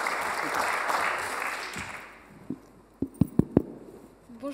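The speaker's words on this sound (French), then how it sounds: "Un tonnerre d'applaudissements" Audience applause at a startup pitch contest final: a dense, loud clapping wash for about two and a half seconds that thins out and fades, followed by a few scattered sharp individual claps and faint stray noises.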